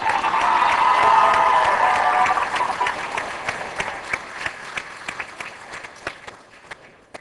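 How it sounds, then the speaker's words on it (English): A crowd at a medical school Match Day ceremony claps loudly at first, then the applause thins into scattered individual claps that fade toward the end. "and a round of applause."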